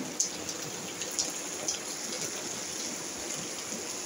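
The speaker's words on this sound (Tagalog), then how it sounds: "lakas ng ulan." Steady heavy rain pours continuously, a dense hiss with faint droplet taps now and then.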